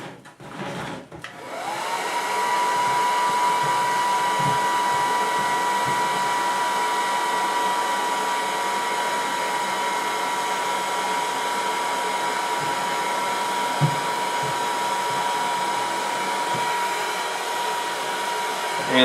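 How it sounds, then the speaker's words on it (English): Heat gun warming a plastic 5-gallon planter, a steady loud blowing whir with a high whine that starts within the first two seconds and runs unbroken for the rest, with faint knocks now and then. "And now I'm going to take the heat gun again,"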